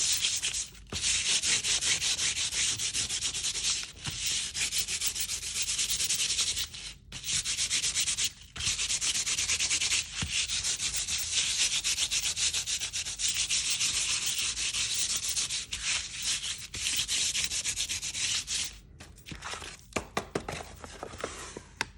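Paper stained with coffee and spice is sanded by hand in long, steady, rasping strokes, a continuous loud scratchy rub with a few brief pauses and knocks, and no one speaking.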